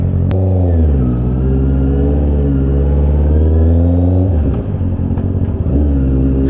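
A motorcycle engine idles and revs loudly up close before dawn at 5:36 in the morning, a deep continuous rumble with rising throttle swells and a few dips near the end, no talking.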